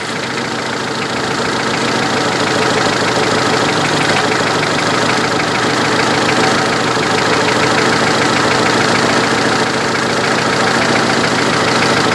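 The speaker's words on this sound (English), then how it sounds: "start it back up, and I bet that rattling noise disappears" A Honda Civic EF9 engine with its rocker cover just refitted idles steadily and loudly, a constant close mechanical hum with a faint ticking texture and no talking.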